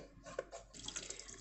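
Water, about 500 ml, is poured onto yeast for bread dough in a home kitchen, a faint, brief splashing trickle.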